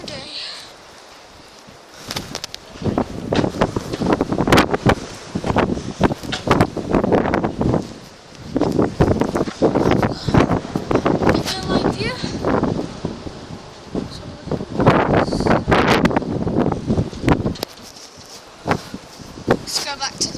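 Gusty wind at the Chalk Lane level crossing hits the microphone in repeated loud bursts, mixed with rustling leaves, separated by brief calmer moments, with voices faintly present at times.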